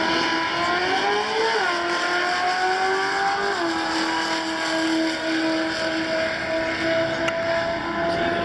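Ford Mustang and Chevy Camaro launching in a drag race at Atco, with loud, steady engine roar climbing through gear changes close by.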